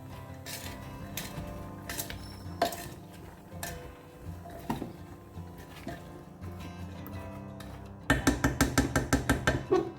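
A spoon stirs pav bhaji ingredients with toor dal and salt in a metal pot, giving irregular scrapes and knocks, then a quick run of rhythmic clanking taps near the end, under soft background noise.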